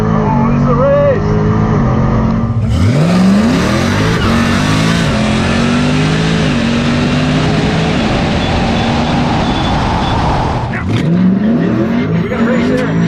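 Drag racing launch at a strip, a Tesla Plaid against muscle cars: loud roaring engines surge and rise in pitch as cars accelerate away, a second burst of revving near the end, with a voice talking over it.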